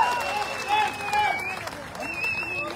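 An audience at a live concert in Durgapur applauds for the singer. The clapping is a continuous wash of moderate loudness, with voices and tonal sounds from the stage over it.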